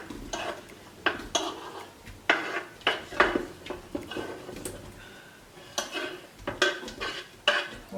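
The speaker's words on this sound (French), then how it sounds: "je vais prendre un couteau, une fourchette pour les verser dedans" Metal knife and fork clatter against a Cookeo pot as fries are tipped in, a run of sharp clinks and scrapes in irregular bursts, close and fairly loud with no talk.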